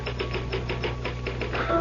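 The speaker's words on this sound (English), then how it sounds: "Start typing, Harry." A typewriter clatters in steady rapid keystrokes close by, about eight or nine taps with a faint bell-like ring near the end, over a low hum, as a radio drama sound effect.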